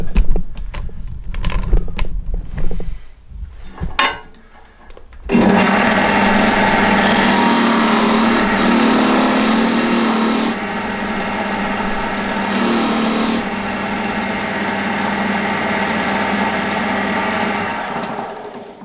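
Power sanding a steel motorcycle kickstand extender, a steady loud whirring grind running continuously after a few seconds of quieter workshop noise, with slight shifts in pitch as pressure changes.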